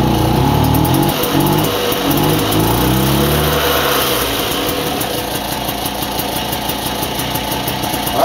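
A moped engine from an orange moped kicks into life and runs steadily, a loud, continuous two-stroke buzz that settles into a rough idle, close up with no talking.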